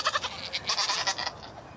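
Goats on a farm bleating in a quick series of wavering, nasal calls, close and fairly loud, fading to quieter background noise at the end.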